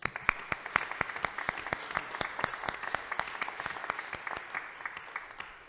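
Applause from a small audience at a pitching competition, a sparse round of distinct claps keeping an even beat throughout, moderately near and with no talk over it.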